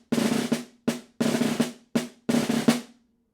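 A snare drum plays etude measure 22 at a slightly quicker tempo, buzz rolls mixed with crisp sixteenth-note strokes in tight rhythmic bursts, close and moderately loud, with no talking before a short ring-off.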